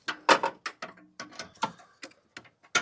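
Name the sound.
wrench loosening a bolt on a Honda CR-V bracket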